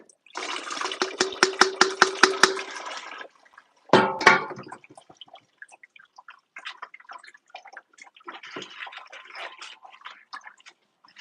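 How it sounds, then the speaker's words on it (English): Water for pottery glazing is poured through a sieve in a studio, first a steady rushing pour, then a sharp splash and scattered drips and trickles that fade into quieter intermittent dripping. "this is essentially just water in here, just to kind of do one more pass through the sieve"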